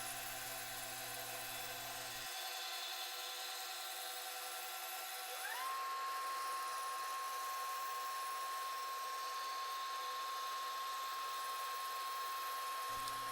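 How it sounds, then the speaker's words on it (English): A bandsaw makes the first truing cut across a wooden disc, a steady droning machine hum with a hiss of blade through wood that rises partway in and then holds an even whine. "The purpose of this first cut is to true up the surfaces of the disc"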